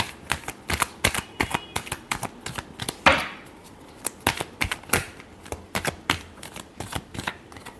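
Tarot cards being shuffled by hand in quick, crisp riffles and taps, close and sharp in an irregular rhythm, with a longer riffle burst midway.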